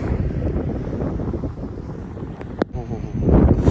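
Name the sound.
strong wind blowing on a mountain road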